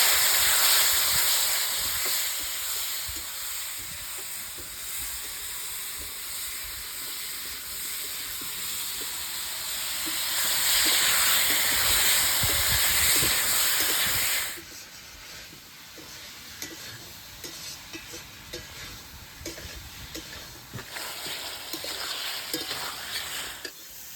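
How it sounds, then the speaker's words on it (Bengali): Potatoes with turmeric, salt and spices sizzle loudly in a pan for a fish curry, with a hissing burst midway, then quieter stirring and scraping after a little water goes in. "এরপরে দিয়ে দেবো হলুদ ভালো করে মেরে করে কষিয়ে নেবো সামান্য জল দিয়ে নেড়ে চেড়ে নেব"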